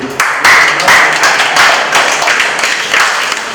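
Sustained, dense applause fills a meeting hall in Abidjan, many hands clapping steadily and loudly close by with little talk.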